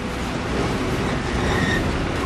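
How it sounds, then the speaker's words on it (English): Mile-wide Oklahoma tornado roaring directly overhead, heard from inside a storm shelter: a dense, loud, unbroken rumbling roar like a large freight train, steady throughout. "Unbelievably, the tornado powers past directly above them."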